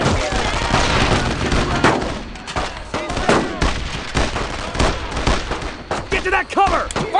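Gunfire in the World War II shooter Brothers in Arms: Road to Hill 30, with loud rapid rifle and machine-gun bursts cracking in dense volleys and scattered shouting voices mixed in, unbroken for several seconds.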